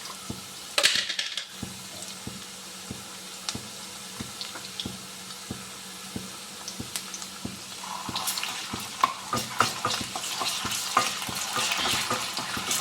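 Ginger garlic paste frying with onions in a pan for a gravy curry, a steady sizzle under regular stirring taps, then louder, brighter scraping and spattering bursts toward the end.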